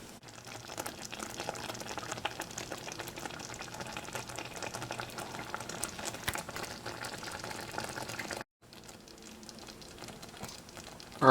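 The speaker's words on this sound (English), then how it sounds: "let that mashed mixture boil for a little bit more until it reaches the requisite temperature" Currant jam mixture bubbling in a pot on the stove, a steady close wash of boiling and popping that cuts out briefly near the end before resuming.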